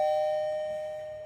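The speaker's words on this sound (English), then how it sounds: "I just bought wireless doorbell" A wireless doorbell receiver sounds a single sustained electronic chime tone, clear and close, ringing steadily and fading slowly over about a second with no other sounds.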